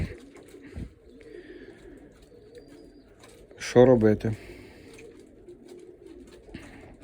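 Racing pigeons coo softly nearby in a burst of throaty, rolling calls amid quiet surroundings, with a person speaking briefly.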